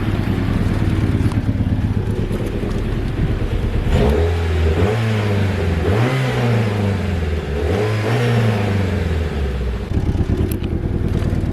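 An Isuzu D-Max engine idles roughly, then revs up several times in swells, with a rattly, blatty exhaust note from an exhaust leak, close and loud.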